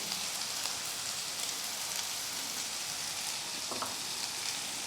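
Onions sautéing with salt in a pan for a fish puttu scramble, a steady, soft sizzle that continues evenly throughout with no talking.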